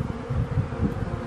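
Honeybees buzz in an open hive during a spring beekeeping check-up, making a low, droning hum. The sound is close, fairly quiet and continuous over a brief moment.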